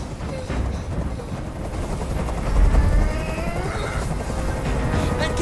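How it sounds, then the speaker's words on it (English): A helicopter hovers nearby during a tense standoff in the video game Detroit: Become Human, its rotor producing a loud, steady rhythmic thumping that swells briefly midway, heard alone without speech. "I can't stand that noise anymore. Tell that helicopter to get out of here."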